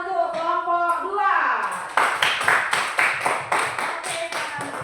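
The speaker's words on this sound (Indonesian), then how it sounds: "Kita beri tepuk tangan untuk kelompok 2." A classroom of students claps for a group after their presentation, a string of sharp, fairly regular claps following a teacher's speech at the start.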